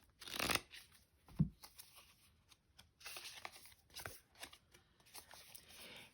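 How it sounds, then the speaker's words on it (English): Lover's Oracle cards are shuffled close up, giving quiet bursts of riffling, sliding and flicking card noise in irregular clusters with pauses between, no talking. "Let's do a Lover's Oracle card. These are difficult to shuffle."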